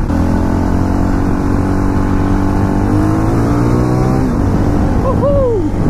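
A KTM LC4 640 single-cylinder motorcycle roars loud and close during a test ride, its engine note holding steady, then rising and falling through revs near the end.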